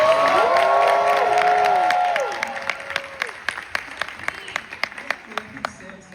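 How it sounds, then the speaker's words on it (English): Film premiere Q&A crowd bursts into applause with cheers and whoops at first, the cheering fading after a couple of seconds while scattered, sharp claps carry on. "Round of applause for Sam."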